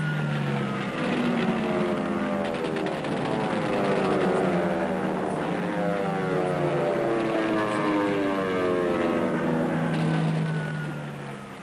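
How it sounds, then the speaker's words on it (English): Propeller-driven WWII fighters, RAF Spitfires and Luftwaffe Messerschmitt 109s, roar in combat with engine pitch sweeping up and down as they pass, loud and continuous throughout. "the Spitfires of the RAF were in deadly combat with the Messerschmitt 109s of the Luftwaffe"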